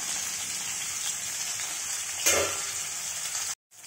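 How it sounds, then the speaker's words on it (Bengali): Bhetki fish frying in a pan, giving a steady broadband sizzle that runs close and fairly loud throughout, with a brief louder crackle burst near the middle before a sudden cut. "এই যে ভেটকি মাছটা ভেজে নিচ্ছি।"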